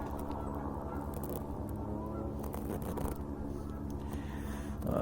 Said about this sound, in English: we got a lot of birds, and they make a lot of noise